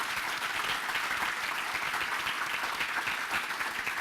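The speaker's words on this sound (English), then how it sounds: "Can we please give all of our award honorees one final round of applause" Audience applause for award honorees at a business salute ceremony, a steady dense patter of many hands clapping throughout, moderately loud and without talk.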